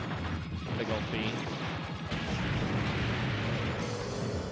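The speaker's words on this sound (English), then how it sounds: "Explosions are awesome." Explosions crash and boom in the video game Tengai, a dense run of muffled blasts at moderate volume with voices faintly underneath.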